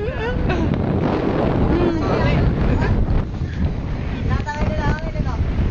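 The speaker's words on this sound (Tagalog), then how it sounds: "Ang inyong lakas ng hangin ah." Strong, steady wind roars and buffets the microphone, with excited voices shouting and chattering over it throughout.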